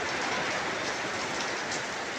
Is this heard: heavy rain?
yes